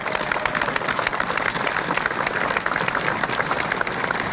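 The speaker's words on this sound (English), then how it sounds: "Can you join me in giving the embassy volunteers a round of applause?" A crowd at an embassy event applauds the volunteers with dense, continuous clapping at moderate volume that stays steady for the whole stretch.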